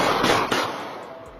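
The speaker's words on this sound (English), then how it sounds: "These are the gunshots and screams of a murder victim that Naheem Simon's doorbell camera caught" Sharp loud cracks of gunshots caught by a home doorbell camera outdoors, a couple of quick bursts fading into a noisy tail.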